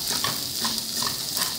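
Fresh garlic dropped onto browned bacon in a pan crackles in a dense, continuous sizzle, with faint scraping of stirring and small popping bursts close by, no talking.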